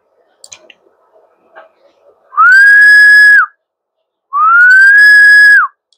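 Two long, steady whistles go into a microphone to test an HF radio booster's power output. Each lasts about a second, sounding clear and loud, and they are separated by a pause, with a few faint clicks heard beforehand.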